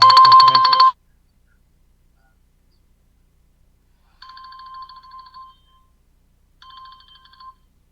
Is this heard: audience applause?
no